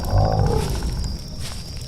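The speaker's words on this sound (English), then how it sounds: "we started to hear a disturbing noise. It was like a clicking," A clicking, growling creature noise in a dark horror scene, a low rumbling growl rising near and loud, then settling into a steady rough snarl with faint clicks throughout.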